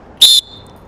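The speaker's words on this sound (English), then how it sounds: "You can hear there's not a lot of difference between the peeless whistles." A Fox 40 Classic pealess sports whistle gives one short, loud, shrill blast of about a fifth of a second, steady in pitch, then cuts off cleanly into near silence.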